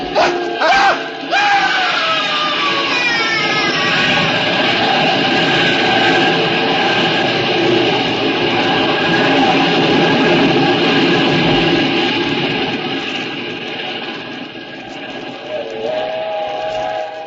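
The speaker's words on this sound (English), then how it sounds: "When the train had passed" A loud train rumbles past close by in a 1947 old-time radio drama, its steam whistle shrieking at the start amid steady roaring and clattering that fades slightly near the end.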